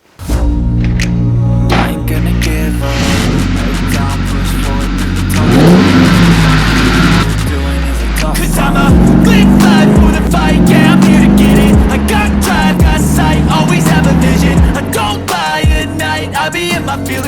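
A Ford New Edge Mustang engine revving hard while being driven, loud and close, with repeated rises in pitch through the gears and a steady throaty roar throughout.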